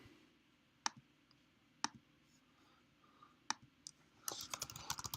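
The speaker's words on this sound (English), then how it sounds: "This is me typing" Typing on a computer keyboard, a few sharp isolated key clicks spaced about a second apart, then a quick burst of rapid clicking near the end, close to the microphone in a quiet room.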